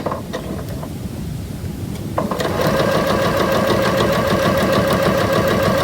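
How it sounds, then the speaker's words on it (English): Sewing machine slowed to about half speed stitching a curved seam on quilt pieces starts up partway through after a few soft clicks, then hums with a steady, close mechanical whir and needle rhythm. "Now, I have slowed my machine down to about half speed."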